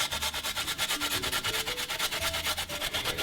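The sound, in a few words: finely grating ginger on a grater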